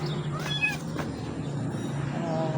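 A cat with a cow-like patched coat meows a few short, thin times close by, over steady low background noise.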